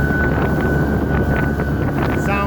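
A Boston Whaler motorboat at top speed, around 4,500 RPM, with a loud, constant engine drone and heavy wind buffeting on the microphone.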